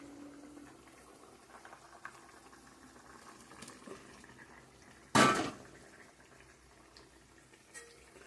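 Water simmers in a pot for a fish curry with papaya and potato, a faint, steady bubbling hiss. One sharp, loud clank of a pot or utensil cuts in briefly partway through, with a few small knocks around it.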